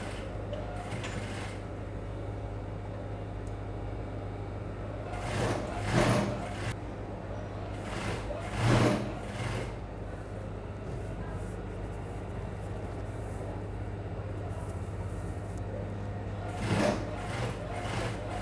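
A sewing machine stitches a graduation hoodie, starting at the upper V sections: a steady mechanical hum and whir runs throughout, with a few brief, louder bursts of stitching.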